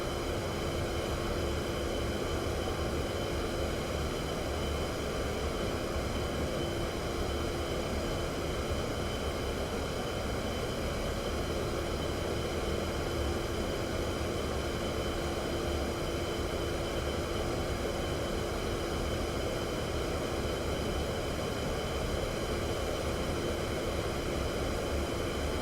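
A-10C jet engines run at full throttle in the DCS flight simulator, a steady, dense roar with a constant whine held evenly throughout, with no talk over it.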